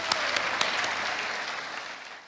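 Applause from an audience at the SEmmy Awards 2013 ceremony, a dense burst of clapping with a few sharper claps standing out at first, fading gradually over a couple of seconds.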